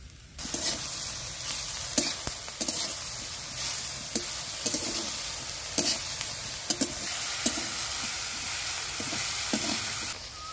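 Fried potatoes and freshly added flower pieces sizzle loudly in a pan, a constant hiss broken by regular sharp scrapes and taps of a spatula stirring, with no talking.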